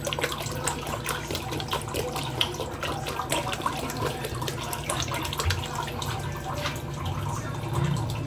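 Water runs steadily into a cooking pot for mung dal, a continuous splashing pour heard up close at an even level with no talking.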